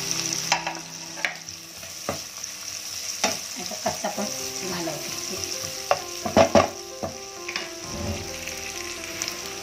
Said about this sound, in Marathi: त्याच्यानंतर कांदा चांगला वळतून घेते.